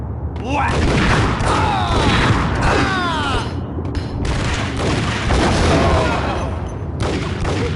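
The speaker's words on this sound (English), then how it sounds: "What the fuck is shooting at me?" Continuous enemy gunfire in Max Payne, dense and loud, with repeated shots and bullet whizzes over constant background noise throughout.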